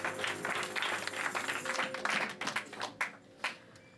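A church congregation applauds in praise during a French-language worship service, a dense wash of clapping that thins into a few scattered, fading claps at the end.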